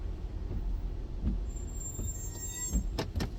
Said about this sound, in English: Sounds like I need new brakes on this thing this morning.